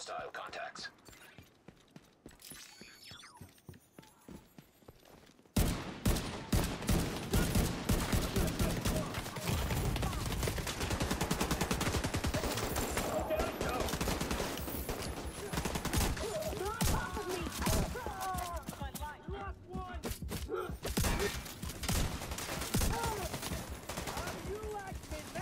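In The Division 2 on Xbox One X, an automated turret fires long rapid bursts of gunfire, loud and continuous after a quieter opening with scattered mechanical clicks and faint whispering.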